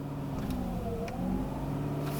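A Mazda RX-8 engine runs steadily at raised revs, a continuous low rumble with a slight swell in pitch, heard close up with no talking.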